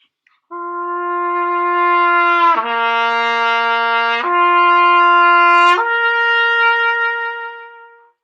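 A sustained brass tone that slurs down in steps to a low, steady C, played alone with a clean, focused sound.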